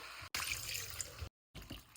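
Water is poured into a pot of cooking goat intestine curry, a steady splashing trickle broken by two short pauses, close by with no talk.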